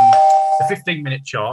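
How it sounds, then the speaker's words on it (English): Trading software alert bells ring out: one clear sustained chime tone at the start, then someone talks over it. "you can hear all the alerts going off that I've set in the system"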